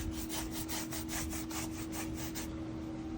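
Paintbrush strokes dragging rhythmically across a grainy foam pillar, applying stone-texture paint over cracks and divots; steady close swishing repeats about ten times, then stops near the end, with a constant low hum underneath.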